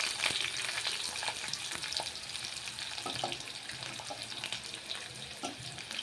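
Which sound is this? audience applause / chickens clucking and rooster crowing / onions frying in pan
onions frying in pan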